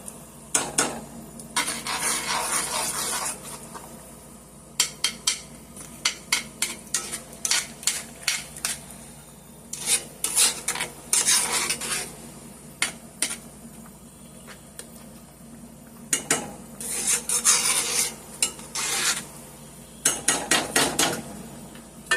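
Beef liver and onions cooking in gravy, stirred in a pan: bursts of rapid spoon scraping and clatter against the pan come and go over a low simmer, with pauses between rounds and no talk.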